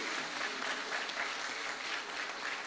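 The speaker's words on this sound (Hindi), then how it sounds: "हम सब जोरदार तालियों से स्वागत करेंगे।" Steady, fairly faint applause from an audience welcoming the chief guest at a commemorative postage stamp release ceremony, a continuous wash of clapping with no break.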